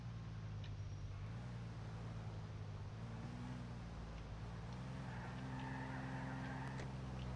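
A Moskvich 408 car driven in Grand Theft Auto IV gives a steady, low engine drone that rises and shifts in pitch as it runs, quiet and continuous with road noise and no voices.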